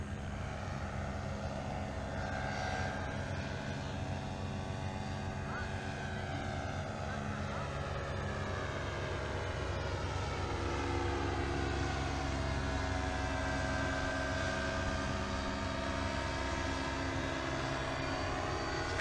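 A paratrike engine drones steadily through a long stretch of flight in Florida, a loud buzzing propeller hum with wind rush and slowly shifting pitch, while people talk intermittently over it.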